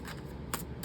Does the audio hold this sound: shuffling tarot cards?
yes